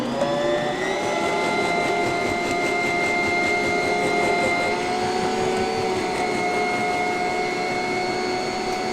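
A food processor whirs loudly and steadily as it chops broccoli florets into rice-sized bits, a constant motor drone with no talking.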